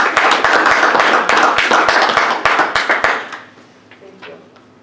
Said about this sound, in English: another round of applause, I guess,